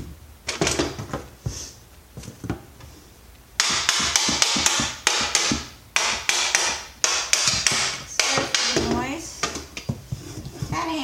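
Repeated hammering with a screwdriver handle while scrapping an RT112 Weed Eater trimmer, sharp close knocks in uneven bursts with clattering plastic and metal parts between strikes.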